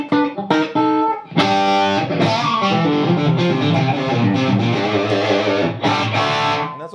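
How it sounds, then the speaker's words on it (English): An electric guitar with single-coil pickups plays chords and single notes through a distorted amp, crunchy and bright, with brief pauses between phrases. "What's great about the distortion side is it cleans up."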